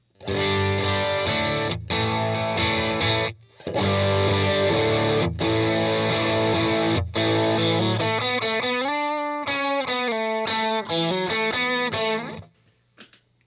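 Electric guitar through an overdrive pedal plays sustained chords, then a run of picked notes, thick and saturated with brief pauses between phrases.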